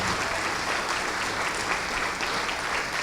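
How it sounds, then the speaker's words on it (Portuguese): Church congregation applauding, a dense, steady wash of many hands clapping at once, loud and continuous throughout. "vamos aplaudir ao Senhor Jesus por cada vida que está chegando"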